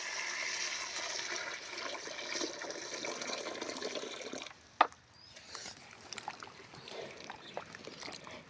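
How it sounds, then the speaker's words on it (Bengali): Water pours and splashes steadily for several seconds, a close hissing gush that stops abruptly with a clunk, followed by quieter drips and trickles. "এগুলি এখন জল ডালা হচ্ছে"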